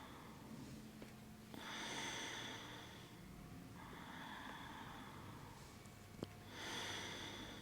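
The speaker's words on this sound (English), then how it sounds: "Breathing slowly in and out through the nose." Slow, quiet breaths in and out through the nose during a gentle yoga stretch, in soft, evenly spaced cycles of airy rushes with a faint click partway through.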